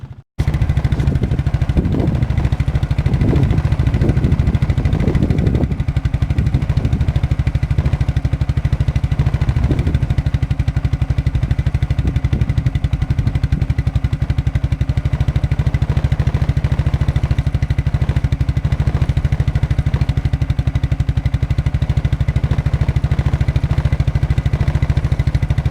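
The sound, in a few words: quadrunner 300 ATV engine running after cold start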